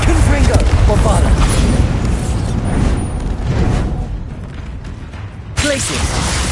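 Confringo and Bombarda spell explosions in the Hogwarts Legacy video game, heard as loud, dense booms and blasts in quick succession over a continuous roaring combat din, with a fresh burst near the end.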